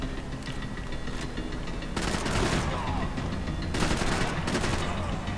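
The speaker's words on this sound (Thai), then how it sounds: "ยิงโดยไม่มอง" Sustained gunfire in the video game Max Payne 3, fired blind: dense bursts of rapid shots rise louder at about two seconds and again near four seconds, over constant battle noise.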